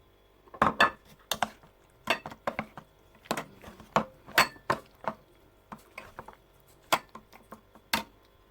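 A spoon clinks and scrapes against a bowl as chicken is mixed with black pepper and cornflour, producing irregular bright metallic taps and knocks in clusters with quiet gaps, close and alone without talk.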